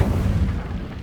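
The Incendio fire spell in Hogwarts Legacy erupts as a heavy, close, low booming roar that starts loud and rumbles on, fading slightly over about a second.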